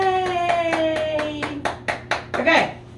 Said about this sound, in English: Why am I the only one clapping?